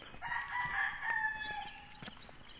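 Rooster crowing at a backyard chicken coop in a rural Philippine garden plot, a few overlapping calls rising and falling over steady ambient noise, moderately near, with no talking.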